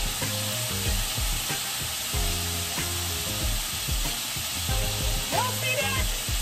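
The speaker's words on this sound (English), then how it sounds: "I'm gonna put these beans in here and kind of saute them" String beans sauté in a hot pan with a loud, steady sizzle throughout, broken by occasional soft knocks and shuffles as they are stirred.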